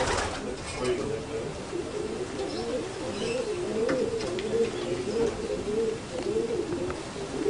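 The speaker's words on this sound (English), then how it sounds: "there's some lovely looking birds" Pigeons cooing steadily in a low, rolling rhythm outdoors at a bird spot in Alexandria, continuous and moderately close under light background noise.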